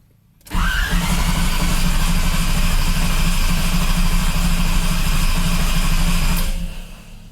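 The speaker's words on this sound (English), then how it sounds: "Let's see if she'll start on the first crank." A Chevrolet Camaro engine cranks briefly and catches, then settles into a loud, steady idle close by before cutting off near the end.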